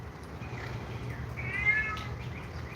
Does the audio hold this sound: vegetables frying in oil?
no